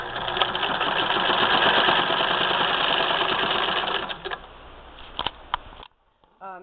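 A 1934 Singer 99 sewing machine stitches in a steady rapid mechanical rhythm, loud and close, then slows and stops with a few clicks of the handwheel.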